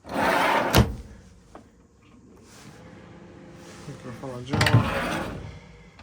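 A drawer in the kitchen of a 2001 Hobby 540 UL caravan slides open with a quick scrape, then later another sliding rattle, with a quiet voice murmuring between the two.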